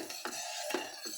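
Rice soaked and washed, stirred into water in a casserole with garlic and beetroot, giving a few soft scraping knocks of a spoon against the pot, close and brief.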